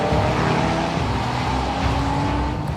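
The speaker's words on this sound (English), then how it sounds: "I can hear the car out on the track." A race car at GT Academy in Australia drives out on the circuit, its engine droning loud and steady, humming through shifting tones for several seconds.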